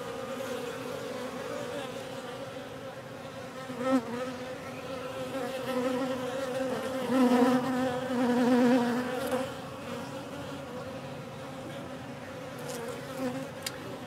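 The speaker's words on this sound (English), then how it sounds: "Let's go check on the tool shed and see how those bees in the shed are doing." Honey bees fly in and out of a colony in a tool shed, a dense, continuous buzzing drone from many insects close by, swelling and fading slightly as individual bees pass near.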